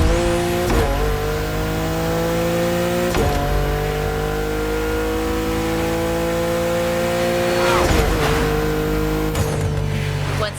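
A Toyota Supra Drift Edition drifting in the racing game MotorFest, its engine revving high and steady with sharp gear-shift drops and tire squeal, loud and close throughout.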